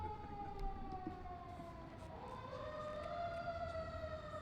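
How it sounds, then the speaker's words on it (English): An emergency vehicle siren wails steadily throughout, its pitch sweeping up and down as the vehicle passes by nearby, loud over a rumble of traffic. "And, siren."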